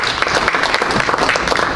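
An audience at a public community meeting in Baltimore applauds the chair, a steady, dense clapping that fills the room continuously from start to finish without pauses.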